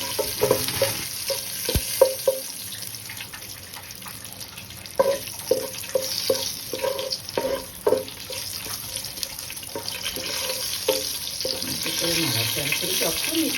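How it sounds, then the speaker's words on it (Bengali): Cumin seeds fry in a little oil while a spoon stirs them, giving a steady close hiss broken by repeated scraping clatter and knocks against the pan. "সেটাতে আমি একটু অল্প কটা জিরে দিলাম। এদিকে সুন্দর করে একটু নাড়াচাড়া করে"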